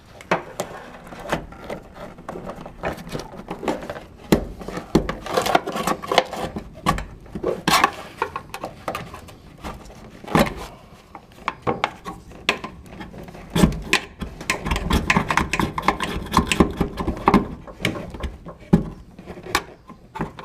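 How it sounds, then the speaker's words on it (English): Hand scraper removing old seam sealer from a car body, a dense run of close, rough scraping strokes and gritty rasps with irregular rhythm, fairly loud and without speech. "just use your muscles and a really good scraper, and it comes out pretty quickly"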